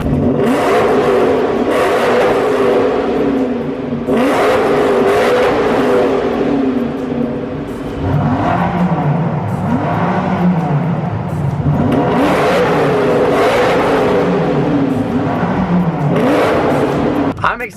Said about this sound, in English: But gotta do a rev battle.